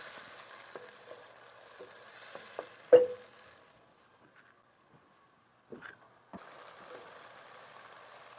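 Tomato juice sizzles softly in oil in a pan, with a few clinks and stirs and one sharp knock. There is a quiet gap partway, and then a low frying hiss returns.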